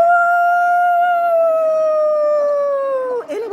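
A dog gives one long, loud, sustained howl close by, its pitch sliding slowly downward before breaking off into a short wavering yelp at the end.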